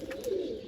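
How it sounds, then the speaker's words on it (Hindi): A slate female pigeon on a rooftop gives a single short, low coo, close and fairly clear. "ये कबूतर पता नहीं कौन सा, ये इस तरफ से आ रहा है"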